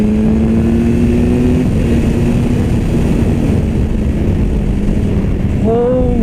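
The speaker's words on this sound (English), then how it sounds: "I don't know if it's just because of the tuning of this engine, but I'm getting power immediately" A 2016 BMW S1000R motorcycle engine revs hard and accelerates, its tone climbing in pitch with a whining rise near the end; the roar is loud and close over wind rush.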